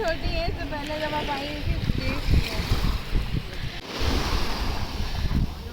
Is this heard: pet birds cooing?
no